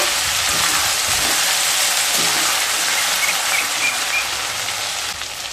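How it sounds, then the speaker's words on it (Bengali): Spices and chili powder with ginger paste fry in a pan for a vegetarian banana-stem dish, giving a loud, dense, continuous sizzle with no pauses that dips a little at the end. "দিয়ে মশলাগুলোকে খুব ভালোভাবে কষিয়ে নেব।"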